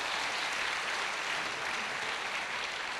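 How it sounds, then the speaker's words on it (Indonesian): An audience at a university public lecture claps together in dense, even applause that holds steady and fairly far off for the whole stretch, with no voices over it. "Tepuk tangan untuk"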